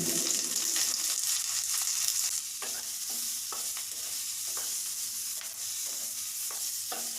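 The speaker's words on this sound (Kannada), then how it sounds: "ಫ್ರೈ ಮಾಡ್ಕೊಳ್ಳಿ ಸ್ವಲ್ಪ ಜೀರಿಗೆ ಹಾಕೊಳ್ಳಿ ಸ್ವಲ್ಪ ಲೈಟಾಗಿ ಲೋ ಫ್ಲೇಮಲ್ಲಿ ಇಟ್ಕೊಂಡು ಹುರ್ಕೊಳ್ಳಿ" Dry red chilies and cumin frying on a low flame in a pan, a soft continuous sizzle with repeated light scraping strokes of a stirring spoon, close and fairly quiet, no voices.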